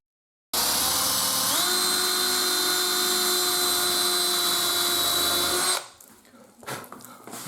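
A power drill starts abruptly and whines steadily at high speed for about five seconds while drilling a hole in wood for a wardrobe, pitch dipping slightly under load, then stops, leaving faint clatter.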